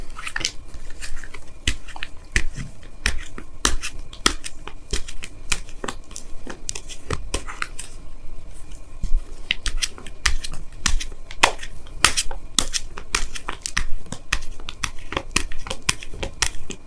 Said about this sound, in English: Let me go ahead and pull you guys your Wisdom of the Oracle card for the week.